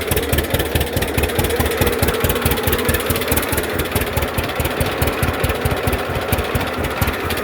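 A 1937 unstyled John Deere A tractor engine idles close by, with a loud, even, loping chug of regular beats that holds steady from start to finish.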